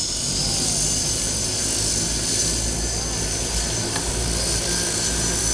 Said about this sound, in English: this is the Ryse Recon, and what basically it is an ultralight vertical takeoff and landing electric vehicle